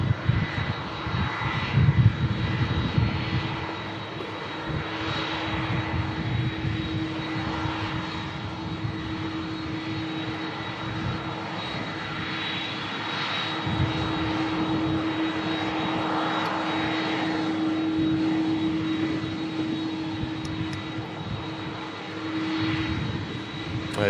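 An airliner powered by CF6 jet engines roars steadily and loudly nearby, a sustained broad engine rumble with a droning tone that stays even over a long stretch.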